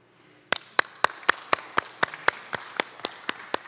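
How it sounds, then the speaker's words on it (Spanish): Church congregation at a Lutheran service clapping together in slow unison, about a dozen sharp, evenly spaced claps in a steady beat, close and clear over a quiet room. "Aplauda."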